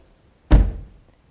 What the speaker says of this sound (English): You can even hear the quality built into the doors just by the way it sounds when you close it